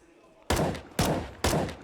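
Three loud, sharp gunshots go off in Counter-Strike on the Train map, spaced roughly half a second apart. Each has a hard attack and a short decaying tail, with no talk.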